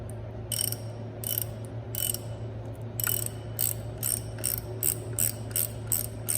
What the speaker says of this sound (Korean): 마지막에 다시 이 풀림 방지 너트 채워줍니다